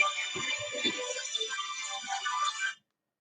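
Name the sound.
phone ringtone ringing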